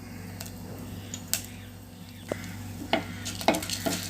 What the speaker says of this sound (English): Saute this well till the dal is turned golden brown.